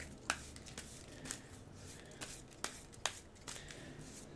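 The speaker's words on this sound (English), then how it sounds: "Let me shuffle this so we can get 4 cards back." Cards being shuffled during a Cthulhu: Dark Providence board game session, a few faint, crisp riffling snaps spaced unevenly over a quiet room background.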